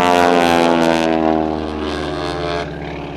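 A propeller aerobatic airplane performing at the 2007 Abbotsford International Airshow gives a loud, steady engine drone that eases slightly as it climbs over the top, with no talk.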